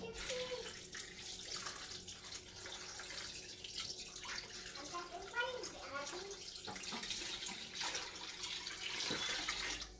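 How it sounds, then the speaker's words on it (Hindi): Water poured into a soup pot, about two litres for a vegetable chicken soup, a continuous splashing, gurgling stream close by, running throughout without talk. "दो लीटर हमने इसमें पानी डाल दिया"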